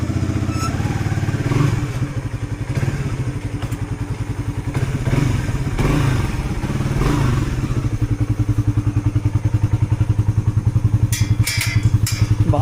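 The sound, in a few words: motorcycle riding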